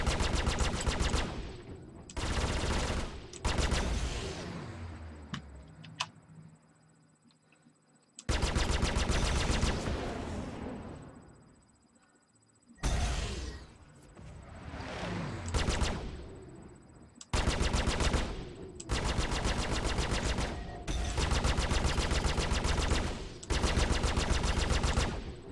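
Loud, sustained bursts of automatic gunfire from a Star Citizen video game battle, with long rattling volleys separated by short pauses and a quieter stretch in the middle.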